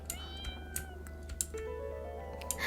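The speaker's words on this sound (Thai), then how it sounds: "น้องเหมียวน่ารักจัง น้องขู่ฟอฟอเต็มเลย" A cat in the RPG Maker game Pocket Mirror makes brief hissing and mewing cries over a soft game background, with faint clicks and no talk.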